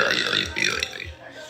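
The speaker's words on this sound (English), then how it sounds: "if I keep on burping, I'll lose viewers" A girl lets out a short, throaty burp, close and fairly loud, lasting about a second.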